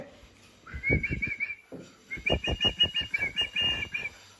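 A small pet bird gives rapid chirping, whistling calls in two bursts of quick repeated notes, close and clear, with no talk over them.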